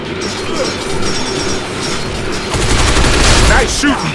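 Rapid gunfire crackles during a rail-switching fight in Binary Domain, a loud, dense mechanical burst that swells toward the end amid clanking machinery noise.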